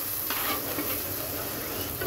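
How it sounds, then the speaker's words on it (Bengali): Shrimp fry with turmeric in a pan while being stirred, producing a close, continuous sizzle with a scraping stir over it. "এইবার সব কিছু সুন্দর করে কয়েক মিনিট ভেজে নেব"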